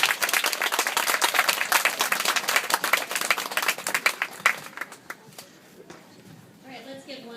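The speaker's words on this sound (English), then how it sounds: "let's give another round of applause" Audience at a 5th grade promotion ceremony applauding, dense steady clapping for about five seconds that then thins out and fades into room murmur.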